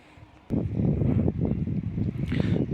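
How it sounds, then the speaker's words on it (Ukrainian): A Hecht IG 3601 inverter generator with a 208 cc engine rated at 3.5 kW runs close by, its steady, rumbling drone kicking in abruptly after a brief quiet moment and holding level without pause. "Заводиться в таку погоду доволі гарно. Сам двигун на на подушках, вібрація від нього мінімальна."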